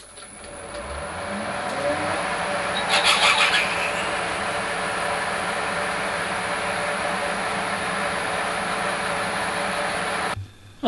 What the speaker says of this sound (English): And finally the 6mm reamer.